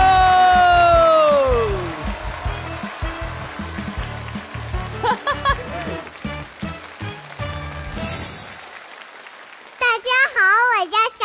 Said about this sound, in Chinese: 掌声有请 C 组选手登场